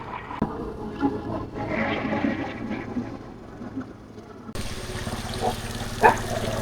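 Storm floodwater runs over the ground in Mannar after heavy rain, making a steady rushing and trickling wash that grows fuller and louder partway through.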